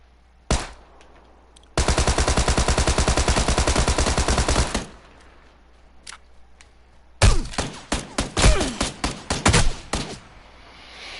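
Tommy gun fire in a video game: a single shot, then a long unbroken burst of rapid automatic fire lasting about three seconds, a few scattered pops, then another stretch of loud, heavy bursts and impacts close up.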